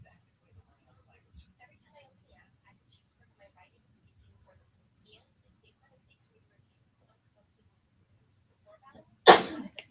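A single sharp sneeze bursts out loudly near the end, after a long stretch of near silence broken only by a few faint clicks and rustles.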